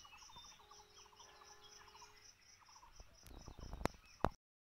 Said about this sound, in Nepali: चराचुरुङ्गीको आवाज सुनौँ।